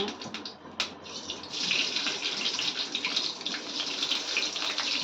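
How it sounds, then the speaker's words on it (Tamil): Mustard seeds hit hot oil in a pan and crackle into a dense, continuous hiss and spatter after a sharp initial pop, moderately loud with no talking. "ஸோ ஆயில் ஊற்றிட்டு அதுக்கப்புறமா கடுகு போட்டுக்கோங்க"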